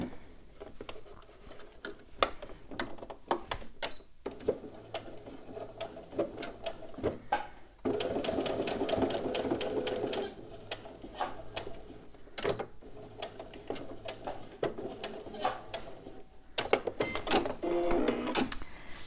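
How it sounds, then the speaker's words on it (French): A sewing machine topstitching a fabric bag runs in close, steady bursts of rapid mechanical stitching, with short pauses and clicks between runs and a longer continuous stretch in the middle. "petite surpiqûre"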